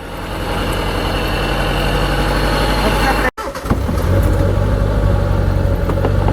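A Mitsubishi Colt's engine runs with a loud, low drone, cuts out abruptly for a moment, then catches again and settles into a steady idle while people talk nearby.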